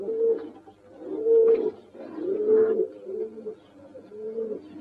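A Spanish pouter pigeon (buchón rafeño) coos to a hen in a series of soft, low, rolling phrases, repeated about five times at close range with no voices.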